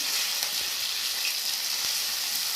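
Poppy seed, ginger and mustard pastes fry in a pan for a village-style mustard pabda fish dish, with a dense, even, close sizzle throughout.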